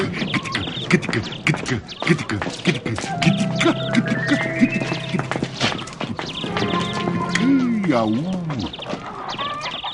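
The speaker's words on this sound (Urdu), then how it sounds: "چل میرے گھوڑے" Horse hooves clip-clop at a gallop amid a busy dramatized scene, with a horse whinny, layered voices and music over the rapid hoofbeats.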